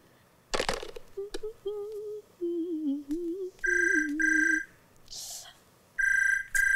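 A home telephone rings in short repeated electronic bursts, loud and near. Voices are heard speaking just before the ringing begins.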